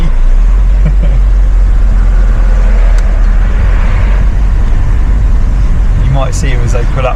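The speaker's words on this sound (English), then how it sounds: "We catch up with him in the traffic." Road traffic rumbles steadily from inside a moving car, a dense low hum of engines and tyres, close and continuous, with a brief higher sound near the end.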